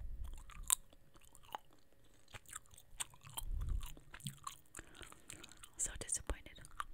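Cup O' Noodles Mexican gum chewed close up, hard and plasticky, with irregular wet clicks, smacks and occasional snaps scattered over several seconds, alongside soft whispered breath.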